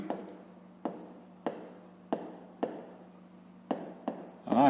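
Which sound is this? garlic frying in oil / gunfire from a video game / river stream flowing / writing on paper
writing on paper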